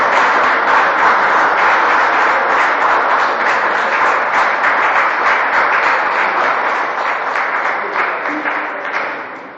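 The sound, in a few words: audience giving a round of applause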